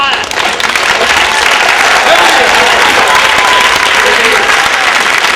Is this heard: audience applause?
yes